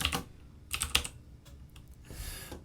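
Typing on a computer keyboard comes in quick clusters of clicks, close and fairly quiet, with short pauses between bursts and no talking.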